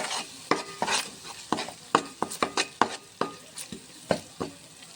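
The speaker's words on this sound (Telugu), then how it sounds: "ఇప్పుడు అల్లం వెల్లిగడ్డ వేసుకున్నాము. వేసుకున్న తర్వాత మంచిగా కలుపుకోవాలి." Ginger-garlic paste frying in oil for hot egg soup, stirred with a spoon: a quiet sizzle under a steady run of sharp metallic scrapes and taps against the pan, close up, with no talking.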